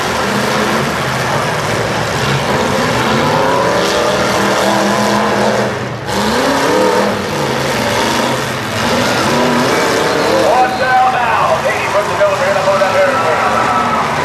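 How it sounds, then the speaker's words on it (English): Demolition derby cars rumble and grind against each other at a county fair arena in Ohio, with continuous loud engine roar, a sharp impact partway through and an announcer talking over the din. "Hopkins to the J20, doing some damage to the number 26 car of Urbana, J.C. Hildebrand."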